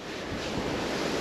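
Steady, loud outdoor wind rushing and buffeting across the microphone, a broad continuous roar with surf-like swells and no voices.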